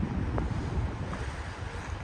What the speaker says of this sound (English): I'm trying to figure the wind.